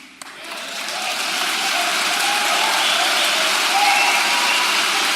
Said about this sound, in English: So what's all the applause about?